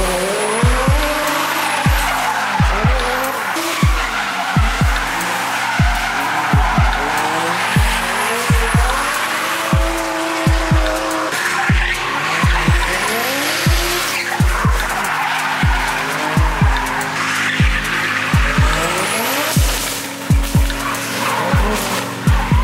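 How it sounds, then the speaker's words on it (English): Cars drifting on Japanese mountain roads at a touge drift meet: loud, repeated tire squeals and skids with revving engines and bouncing limiter notes, car after car passing close in a continuous barrage. "I did not think we would ever get to experience this volume of cars drifting up"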